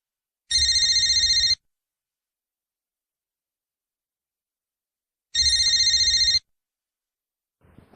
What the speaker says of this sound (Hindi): अरे ये फोन की घंटी कब से बज रही